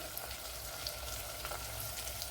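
Sliced onion hits hot oil in a pan while making lemon pickle, giving a steady, moderately loud sizzle with faint crackles throughout, no voices.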